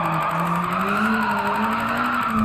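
A 200hp Nissan S13 with an angle kit drifts in Gran Turismo 7, its tires squealing in one continuous loud screech over a steady engine drone that rises slightly in pitch, with no talk.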